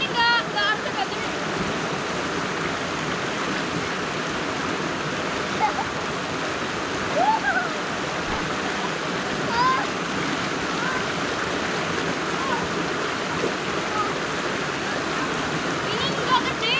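A river flows steadily beside a riverside campsite at a campervan park, a continuous loud rushing wash of water with no pauses, and a voice talks faintly now and then.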